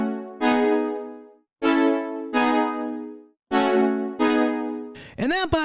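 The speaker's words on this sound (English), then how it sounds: "brass with the strings sound like this" Sustained synth brass chords layered with strings, several held notes with short gaps, ending in a quick bending flourish; loud and close, no talking.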